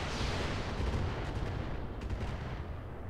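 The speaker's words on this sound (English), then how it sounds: "Using up his rocket launchers early." Rocket launchers fire in the mech battle game Roguetech as a loud, dense rumble of overlapping blasts and booms that rolls on without a break, with no talking.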